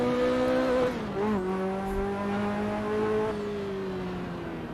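A Ferrari race car engine drops in pitch as it brakes hard on the Mugello track, a loud, steady tone that falls through the gears and then holds.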